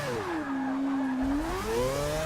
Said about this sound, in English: that was a good drift.